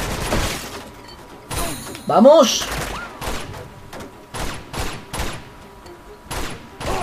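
Rapid bursts of gunfire in the video game Uncharted 2, sharp repeated shots spaced through the clip alongside game effects, with someone talking over the action.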